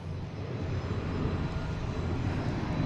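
A Copa airliner taking off at Boston Logan International Airport, heard as a faint, steady, distant engine roar with no voices.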